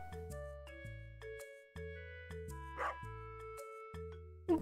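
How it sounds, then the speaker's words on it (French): A cartoon dog barks a few short times in the farming video game Stardew Valley, with soft game music playing alongside. "Je crois qu'il fait très peur aussi le chien."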